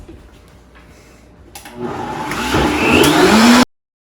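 A blender whirs on high mixing an oatmeal smoothie with water, starting with a faint hum, then ramping up loud and close into a steady roaring whine before cutting off abruptly.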